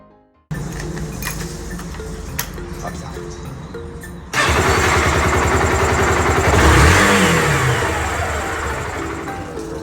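A Yamaha YB125SP motorcycle engine runs steadily at idle during warm-up, its rumble growing louder and rougher partway through, with a brief rise in revs near the end.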